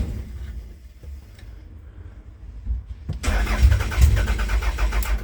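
A Toyota Camry engine cranks and tries to start without its fuel system fully hooked up. A quiet lead-in gives way to a sudden loud, churning rumble that goes on to the end, close by and without speech.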